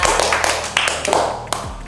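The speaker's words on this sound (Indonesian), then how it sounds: "Boleh tepuk tangan buat Amara." An indoor audience at a hosting class claps, a brief burst of loud, scattered applause with sharp individual claps over about two seconds.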